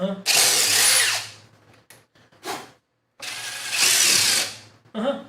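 DeWalt XR and Milwaukee Fuel impact drivers driving a nut take turns in two loud, close bursts of whirring, hammering impacts about a second long each, separated by short clicks and a pause.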